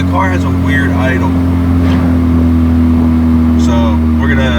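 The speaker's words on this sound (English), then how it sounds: "the car has a weird idle" A modified 440 WHP Ford Focus ST idles unevenly in the cabin, a loud low droning engine hum with a steady pitch under someone talking throughout.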